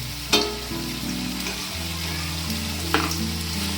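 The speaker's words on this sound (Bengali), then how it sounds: "আমি এইভাবে এগুলোকে ভেজে নেব" A potato snack made with wheat flour shallow-fries in a little oil in a frying pan, giving a faint, steady sizzle under a low hum, broken by two brief clicks.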